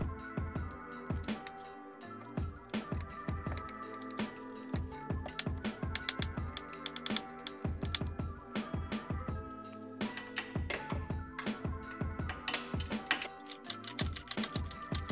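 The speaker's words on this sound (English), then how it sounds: "I'm going to remove these three nuts from the transmission mount" A wrench works loose three nuts on the transmission mount of a Porsche 993, giving quick, close ratcheting clicks in repeated bursts with brief pauses and no talking.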